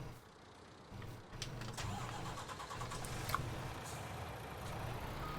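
A truck engine cranks over and catches in Farming Simulator 19, settling into a steady low idle that runs on quietly after the start, with no one talking.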